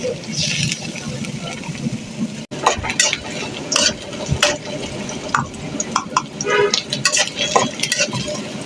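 Chopped onion and garlic hitting hot oil for a baghar tempering while making a restaurant-style mixed vegetable fry, giving a steady close sizzle with stirring clatter and brief scrapes throughout.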